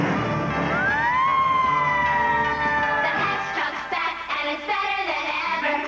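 A Hess Fire Truck 2000 toy siren whoops upward and then holds a steady electronic wail for a couple of seconds, followed by a busier burst of toy sounds and music from a TV commercial.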